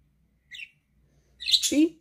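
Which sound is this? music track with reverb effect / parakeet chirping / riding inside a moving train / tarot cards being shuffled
parakeet chirping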